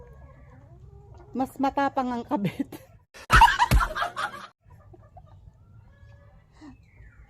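Chickens cluck in short bursts nearby while a person talks over them, with quieter stretches of background noise.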